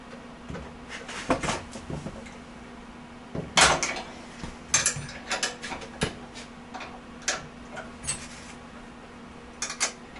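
Ratchet wrench working loose the 13 mm bolts on the old chain tensioner of a Motovox mini bike, giving scattered close clicks and short ticking bursts with small metallic knocks in a quiet garage.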